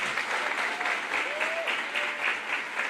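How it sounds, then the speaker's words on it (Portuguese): An audience at a business conference in a church setting claps together in a sustained round of applause, fairly soft and even, with a faint voice tone drifting through. "Uma salva de palmas aí, pessoal."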